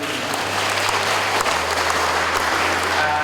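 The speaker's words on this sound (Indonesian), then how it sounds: "mari kita kasih aplaus sekali lagi untuk Ibu" An indoor audience at a work-plan meeting of Indonesia's peat restoration agency applauds a woman, steady dense clapping from many hands that holds loud and even throughout.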